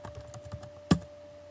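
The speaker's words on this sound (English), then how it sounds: "I'll just type in Diablo" A few light keystrokes tap on a computer keyboard, followed by one sharper, louder key press, close by in a quiet room.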